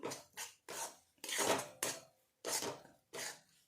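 Spicy garlic chutney is stirred in oil in a pan over low heat, heard as seven distinct scraping strokes of a utensil against the pan, each a short rasp with brief pauses between, close and clear.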